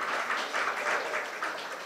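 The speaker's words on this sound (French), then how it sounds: "vous les applaudissez très fort" An audience claps for a group of young people invited to the front, a brief, fairly dense round of applause with slight pulsing swells and no talking.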